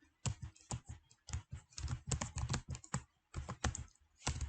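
Fingers type a name on a computer keyboard in quick, uneven bursts of crisp clicks, close and clear with short pauses between words.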